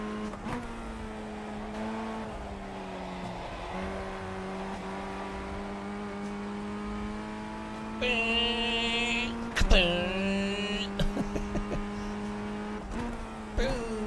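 A video game racing car engine hums steadily with harmonic tones, then revs higher and whines through gear changes, loud and close, with brief tire screeches near the end.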